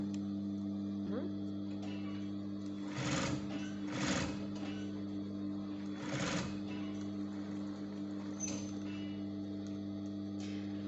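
A sewing machine stitching fur runs in steady stitching bursts, with a constant motor hum underneath and brief pauses between runs.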